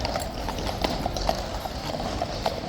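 Horse hooves clip-clop at Horse Guards in a steady, fairly close rhythm of hard strikes, with no talking.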